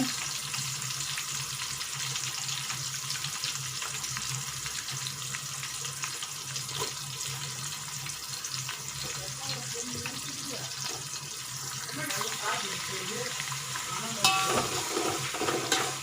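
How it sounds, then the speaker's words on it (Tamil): Onions and green chillies sauté in oil for kuska, a rice dish, making a steady close sizzle with scraping and stirring throughout. It stays moderately quiet, with a brief clink near the end and no talking. "வெங்காயம் போட்டதும் நல்லா வதக்கி விட்டுருங்க"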